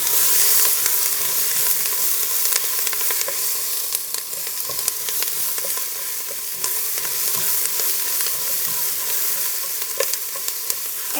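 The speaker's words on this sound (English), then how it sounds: "I'm going to give our onions a quick stir" Onions sizzle steadily in olive oil in a frying pan while being stirred for tomato sauce, giving a continuous crackling hiss with occasional soft utensil scrapes and pops, close and alone.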